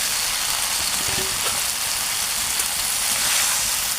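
Broccoli and potato, already fried, tipped into a pan of hot oil and spiced water, giving a steady, close sizzle and crackle with a brief louder burst as they land, no talking.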